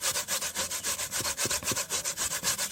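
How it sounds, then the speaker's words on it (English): A carrot is grated by hand in a quick, even rhythm of rasping strokes, about six per second, close up and loud with nothing else heard. "I'm just grating up."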